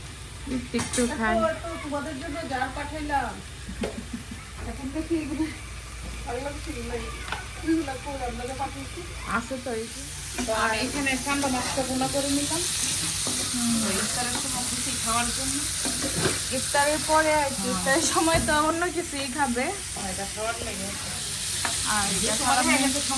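Curry sizzles and is stirred in a home cooking pan with a continuous close frying hiss and repeated scraping stirs, while people talk throughout.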